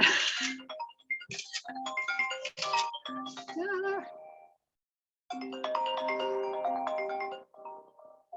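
A melodic phone ringtone plays in two bursts separated by a short pause, bright and chiming, fairly close.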